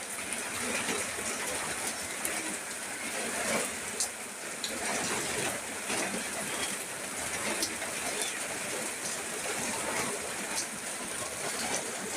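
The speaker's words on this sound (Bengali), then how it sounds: "জুমার দিন আজকে বৃষ্টি পড়তেছে" Steady rainfall in Jessore, Bangladesh, with a continuous hiss and scattered drip-like ticks, fairly soft and even throughout, with no voices standing out.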